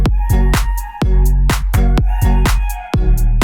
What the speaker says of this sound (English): All right, so we have the instrumental right here.